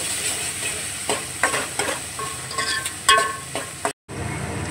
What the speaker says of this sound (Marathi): आता हे सगळं मिश्रण व्यवस्थित एकजीव करून घेऊ